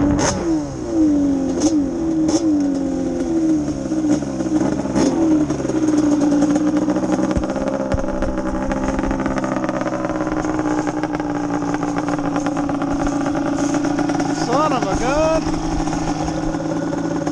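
A 397cc Yamaha Banshee ATV engine revs up and down through several sharp two-stroke blips, then holds a steady mid-range drone with a rising rev near the end, loud and close with a voice speaking over it.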